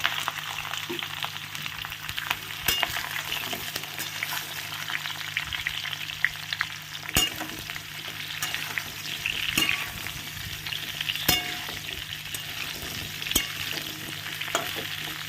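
Eggplant, sweet potato, potato and pumpkin pieces frying in a pan, giving a steady close sizzle with occasional sharp clicks and scrapes of stirring throughout.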